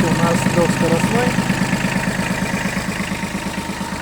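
An ISEKI SIAL5 Japanese mini tractor engine idles close by, a steady, even mechanical chugging with a regular pulse that holds loud throughout, with no talk over it.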